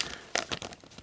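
A plastic bag holding tabletop miniature models crinkles and rustles in a few short, close bursts of irregular handling noise, with no voices.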